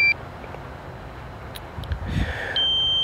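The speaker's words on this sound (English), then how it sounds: "So the beeping's going to be driving everyone mad." A short electronic beep from a DJI Mavic Pro drone, then a low rumble, then a steady high-pitched beep that holds against faint background noise.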